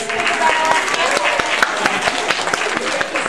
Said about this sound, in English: we can all give Atka a round of applause